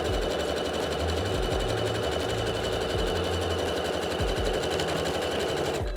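Sewing machine stitching a side seam of a top, a loud, steady mechanical whir of rapid needle strokes running continuously and close, with a few slight speed changes and an abrupt stop at the end.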